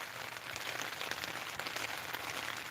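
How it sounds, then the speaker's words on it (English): Heavy rain pours steadily onto a tent at a campsite, a dense, even patter with scattered louder drops throughout and no voices. "It was drizzling, and now it's kind of pouring."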